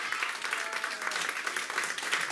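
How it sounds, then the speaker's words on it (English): An audience at a hypnotist stage show gives a steady round of applause. The clapping is dense and continuous at moderate loudness, with no speech over it. "Can we give them a round of applause?"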